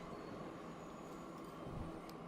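Train running steadily in Transport Fever 2, a continuous rumbling rail roll with faint wheel squeal, heard alone at an even, moderate level.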